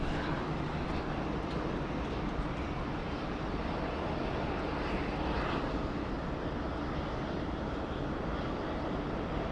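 Fiji Airways heavy jet taking off from runway 34 left at Sydney Airport, a loud, steady broadband engine roar that holds throughout and swells slightly midway, with no voices.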